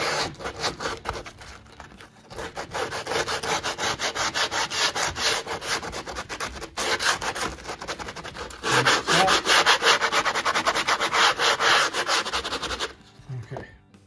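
Sandpaper rubs a bevel into cork model railroad roadbed in quick, rhythmic, close strokes, with brief pauses between bursts of sanding.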